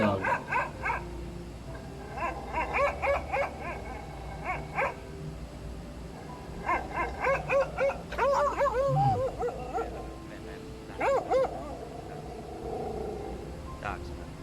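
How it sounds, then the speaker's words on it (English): Dogs at an animal rescue shelter bark, yip and whimper in intermittent bursts, with several clusters of barks separated by short pauses at a moderate distance. "aggressive dog."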